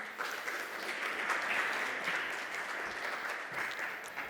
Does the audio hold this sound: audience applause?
yes